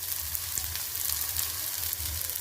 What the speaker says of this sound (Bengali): পেঁয়াজটা ভাজা বসিয়েছি